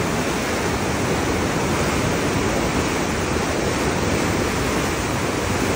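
Huka Falls, the waterfall on the river at Taupo, New Zealand, as a dense, steady roar of rushing water, loud and close, filling the whole clip without a break and with no voices.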